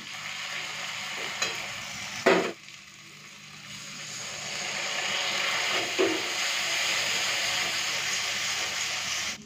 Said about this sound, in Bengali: এই যে আদা রসুন পেঁয়াজ খুব ভালো মতো ভাজা হয়ে গেছে।